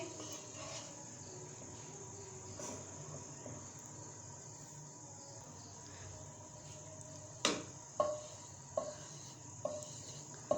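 Cooking oil heats in a pan with a faint, even hiss, while quiet clinks and scrapes of a utensil grow more frequent toward the end; close and low in level, no talking.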